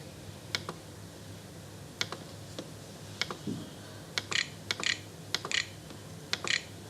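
Keys tapped on a computer keyboard in short, irregular bursts of clicks, close and fairly quiet, with pauses between clusters and no talking.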